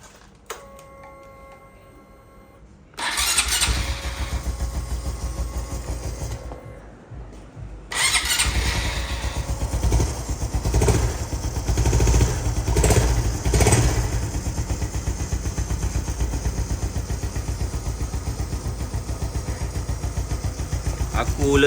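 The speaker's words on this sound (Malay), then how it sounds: "Tadi tu bunyi timing chain." Motorcycle engine with a noisy timing chain: after a short quiet stretch it fires up, cuts out briefly, then restarts and runs loudly and steadily with a persistent metallic clatter.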